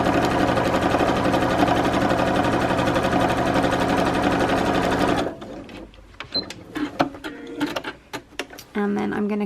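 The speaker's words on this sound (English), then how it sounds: "I'm going to start by stitching down this raw edge." A sewing machine stitching down a raw fabric edge runs steadily and loudly for about five seconds, then stops, leaving scattered handling clicks and rustles.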